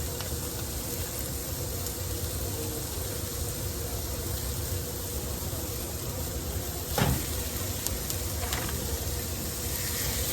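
Ground beef sizzles in a pot with onions and garlic, a steady close hiss of frying that holds at an even level throughout, broken once or twice by a brief clank of a utensil.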